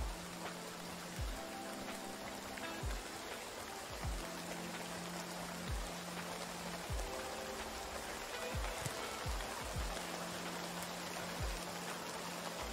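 Steady rain falls in the survival game Retreat to Enen, a continuous soft hiss of drops with occasional low thuds and tones from the game underneath, with no talking.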